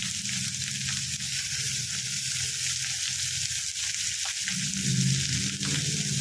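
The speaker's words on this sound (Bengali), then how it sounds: "এবার আমি মিডিয়াম সাইজে 3টে পেঁয়াজ কেটে রেখেছিলাম, সেটা দিয়ে দিলাম।" Three medium chopped onions drop into hot oil seasoned with green chillies, setting off a loud, continuous close sizzle that shifts in tone partway through as the pan settles, with no talking.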